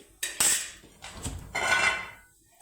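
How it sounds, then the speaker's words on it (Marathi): Peanuts being pounded in a mortar and pestle, a few sharp knocks followed by duller grinding thumps, close and fairly loud with no talk. "मी फेसणार आहोत खलबत्त्यात दाणे"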